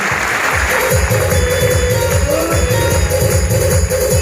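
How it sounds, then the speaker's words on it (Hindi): An audience at a Smart Value business gathering applauds loudly and continuously, a dense clapping wash mixed with background music and low rhythmic thumps. "तो एक बार स्मार्ट वैल्यू के लिए जोरदार ताली होना चाहिए।"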